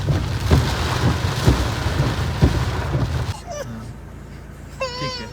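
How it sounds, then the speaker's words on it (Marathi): Steady, loud monsoon rain in thick fog at Khandi View Point near Pune hisses with occasional heavier spatters, then drops away abruptly to a quieter scene with faint voices. "पाऊस पण चालू आहे"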